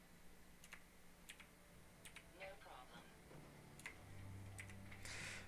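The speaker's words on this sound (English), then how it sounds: "All that clicking in the background is my special keyboard." A mechanical computer keyboard clicks in the background, faint scattered key taps and short flurries of typing, quiet and spaced irregularly under low game and room noise.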